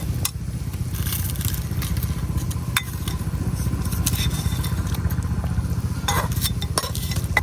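Pabda fish going into a pan of cooking okra with mustard paste, a steady loud sizzle and bubbling broken by a few sharp clatters and scrapes of a utensil against the pan.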